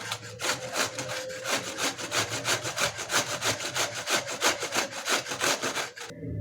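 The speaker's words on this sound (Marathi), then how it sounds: "आता मी दुसरी ही कैरी अशा पद्धतीने किसून घेते" Raw green mango being grated by hand for a jaggery gulamba preserve, a steady run of rhythmic rasping strokes, close and fairly loud, continuing for several seconds before stopping abruptly.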